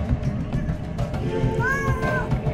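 A cat in the video game Copycat lets out a short, high meow partway through, fairly faint over a steady low rumbling background.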